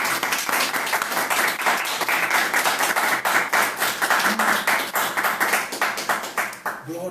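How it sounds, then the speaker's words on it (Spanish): A church congregation claps together in sustained, dense applause with rapid rhythmic hand claps, loud and close, with voices faintly mixed in. "Un fuerte aplauso al Señor Jesucristo."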